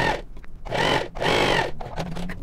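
A sewing machine stitches a seam on a large patchwork block in two long whirring runs with short stops between, close and fairly loud.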